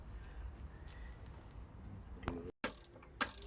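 A ratchet works on the brake caliper carrier bolts of a Land Rover Discovery 2 Td5, giving a few short clicking bursts close by in a quiet garage after a low rumbling background.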